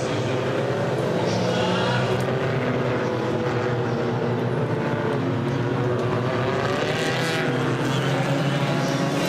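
World Touring Car Championship race cars in Hungary roar loudly and continuously as the pack restarts, with layered engine tones rising and overlapping through the whole stretch.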